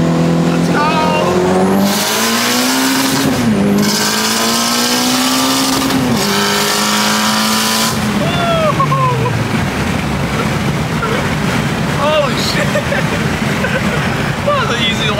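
A Mitsubishi Evo 8 with a 2.4L stroker engine accelerates hard on a racetrack, its loud engine note climbing through rising pulls with sharp gear shifts, followed by an excited voice and intake and exhaust roar close by.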